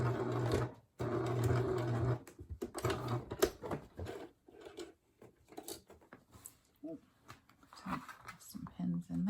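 A sewing machine stitches along the top of a wire pocket on a three-layer fabric face mask, running in short bursts with pauses, close and fairly quiet, while a person talks over it.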